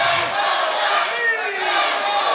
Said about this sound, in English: you hear this crowd is torn between Lacy and SOS